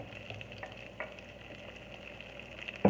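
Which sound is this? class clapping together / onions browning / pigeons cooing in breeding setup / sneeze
onions browning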